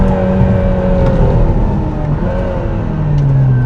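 The Aston Martin Valhalla's engine drones loudly and continuously as it accelerates around a track lap, a close, sustained roar with shifting pitch and no pauses.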